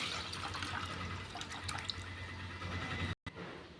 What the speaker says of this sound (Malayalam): ഇത് തേയില വെള്ളത്തിലേക്ക് ഒഴിച്ചു കൊടുക്കുക